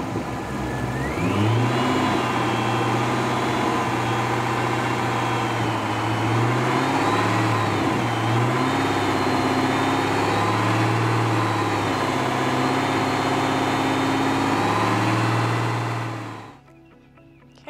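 A car's GDI engine idles up and holds around 2000 RPM during a cleaning service, a steady continuous hum and whir close by, running unchanged for about fifteen seconds before cutting off abruptly.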